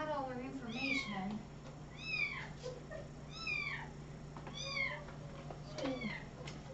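Several cats meow repeatedly in a row of clear, rising and falling calls spread across the clip, close and fairly loud over a low steady hum.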